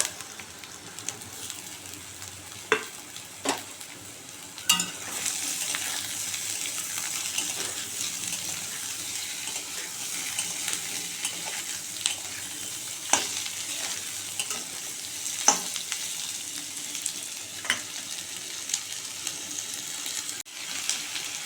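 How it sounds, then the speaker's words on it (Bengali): Cut potatoes fry with lightly browned onion in a pan, a steady close sizzle broken by repeated sharp scrapes and knocks of stirring, with no talking. "পেঁয়াজটা হালকা ভাজা ভাজা হয়ে গেছে, এবার আমি কেটে রাখা আলুটা দিয়ে দেবো।"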